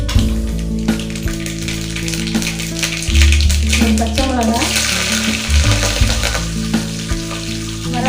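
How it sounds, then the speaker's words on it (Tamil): Mustard seeds and urad dal lentils frying in hot oil, a steady sizzle with crackling pops throughout, while someone talks over the cooking. "எண்ணெய் நல்லா காஞ்ச பிறகு 1 ஸ்பூன் அளவுக்கு கடுகு உளுந்த பருப்பு,"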